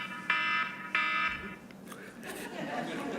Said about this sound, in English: Good thing I put that timer on it.